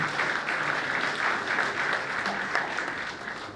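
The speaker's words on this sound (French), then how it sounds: "Encore applaudissements," Dense, steady applause from an awards ceremony audience in Côte d'Ivoire, a continuous wash of many hands clapping at moderate loudness throughout, with no pauses.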